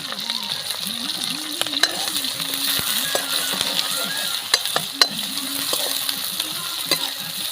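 Onion pieces sizzling and frying in hot oil in a kadai, a continuous loud crackle broken by sharp clinks of a utensil against the pan.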